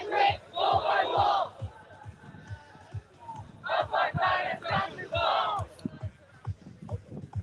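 Protest crowd of roughly fifty people at a university demonstration chanting rhythmic slogans in unison, loud and close, in repeated bursts with brief pauses between phrases.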